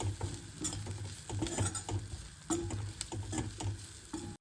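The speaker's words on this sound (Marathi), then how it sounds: "शेंगदाण्याचं कूट टाकून असं हलवून घ्यायचं" Crushed peanut powder being stirred into a vegetable curry in a pan, rhythmic scraping strokes of a spoon repeating over a steady sizzle, close and clear with no voices.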